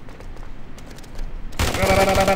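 Sustained rapid automatic gunfire in a shooter video game (Afterpulse) bursts in loud and dense, continuing without a break after a stretch of quieter in-game ambience.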